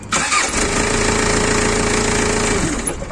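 A Toyota engine, just rebuilt after an overhaul and refitted to its vehicle, cranks and catches, then runs steadily and loudly up close with a dense mechanical clatter and no talking.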